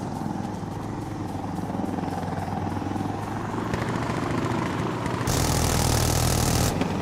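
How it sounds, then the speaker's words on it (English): Helicopter in the tactical shooter Insurgency: Sandstorm, a steady rotor and engine drone that swells louder toward the end, with no talking. "Helicopter's a bad sound."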